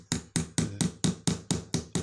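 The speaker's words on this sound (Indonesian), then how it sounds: "Pakai palu." A hammer drives a small nail against the cell connector of a car battery, giving nine sharp, evenly spaced metallic strikes about a quarter second apart, close and loud, with no speech.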